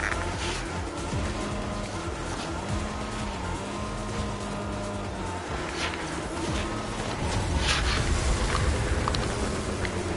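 Game car racing along in Fortnite Rocket Racing, a steady engine drone with shifting tones and scattered skids, busy and continuous, getting louder near the end.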